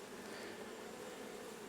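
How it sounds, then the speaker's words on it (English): Honeybees buzzing inside a hive super on a farm, a faint, dense, continuous hum of many bees with no breaks. "There's a lot of bees in there."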